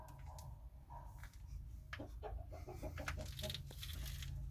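Hens cluck in short, repeated bursts, fairly close, over a steady low rumble of background noise; no one speaks.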